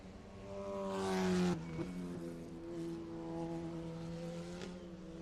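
Race cars on a road course, with Cash Felber's number 11 among them: engines drone and rise in pitch, with one car swelling loud and close before cutting off sharply, then a steadier engine note carries on under a faint commentary voice.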